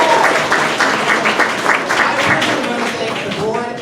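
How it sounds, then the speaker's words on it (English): An audience at an evening awards event for progressive leaders in Nevada claps in sustained, loud, dense applause that fills the room throughout. "Give yourselves a round of applause for being here."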